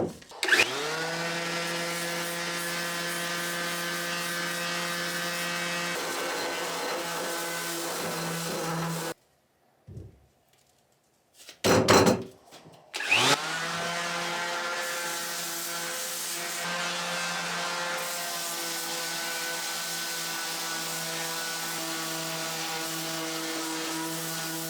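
A power sander works 220 grit paper over 3D printed rifle parts, a steady close whine that stops briefly midway, gives a few short bursts, then resumes steadily.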